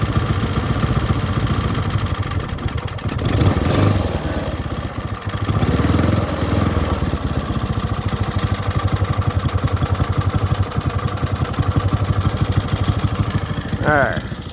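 A Hammerhead 150 engine fitted with a header and muffler idles low and steady nearby, a rapid even chug throughout with a voice talking over it for much of the time.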